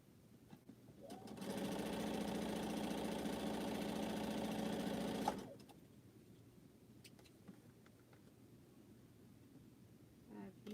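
A sewing machine stitching quilt pieces hums in a steady run of a few seconds, close and fairly loud, then stops, leaving quiet room sound with faint clicks and handling noises.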